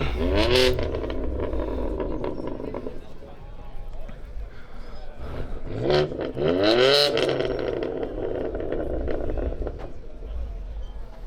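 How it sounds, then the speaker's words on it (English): A BMW M4 at a car meet in Germany revs its engine in two strong bursts, the pitch sweeping up and falling back, close and loud over the outdoor crowd noise, with people talking. "This is an M4 making noise."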